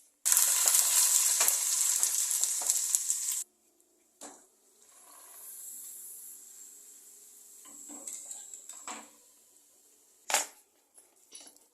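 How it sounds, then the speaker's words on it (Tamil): Appalam (papad) fries in hot oil, starting with a loud, dense sizzle for a few seconds that cuts off abruptly. Quieter crackles, soft bubbling and a few sharp clicks or knocks follow. "இந்த அப்பளம் வறுத்தாச்சு"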